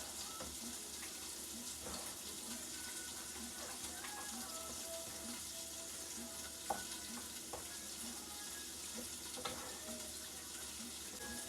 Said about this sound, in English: So we're going to let that simmer for a little bit so all the flavors can meld together.